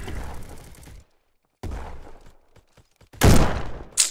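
Precision rifle shots in the Roblox shooter Bad Business: a few sharp, widely spaced gun cracks, with one loud blast near the end, surrounded by brief silent gaps and quieter game noise.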